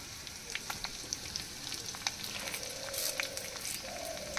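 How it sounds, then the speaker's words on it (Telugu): Broken dried red chillies frying in hot oil, giving a steady close sizzle broken by small scattered pops and crackles, with no voices. "ఇదిగో నూనె వేడయింది ఇదిగోండి తుంచిన ఐదారు ఎండుమిరపకాయలు వేసుకోవాలి"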